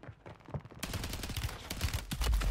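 Mortar strike explosions in a first-person shooter battle royale, a dense burst of heavy booms and crackling blasts hitting close, building in intensity and ending in a loud deep impact.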